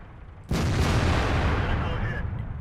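A tank cannon fires in World of Tanks, a single sudden, loud, booming blast that rolls on as a dense, sustained roar and slowly fades.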